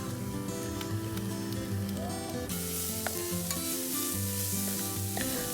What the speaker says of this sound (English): Also add your chopped ginger. Add finely chopped cilantro and saute.